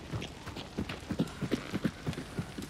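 Horse hooves in the game Hunt: Showdown 1896, a steady rhythmic clip-clop of hoofbeats on the ground, moderately near and growing slightly louder, with no talk over them.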